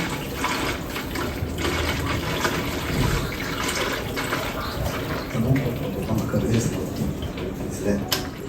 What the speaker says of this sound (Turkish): lavabodaki su geliyor zaten şurada